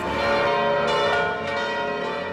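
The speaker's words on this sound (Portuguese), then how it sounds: "Os sinos dobram" Church bells toll at the Church of the Annunciation in Nazareth, a steady ringing wash of overlapping resonant tones with a few fresh strikes rising out of the sustained hum, continuous and moderately loud.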